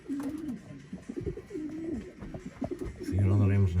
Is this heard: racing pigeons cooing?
yes